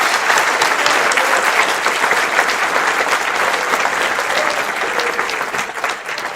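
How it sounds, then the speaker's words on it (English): Loud, sustained applause from the audience at an awards convocation fills the hall, thick and continuous, tapering slightly toward the end. "If we could get a quick round of applause for all of those incredible counselors."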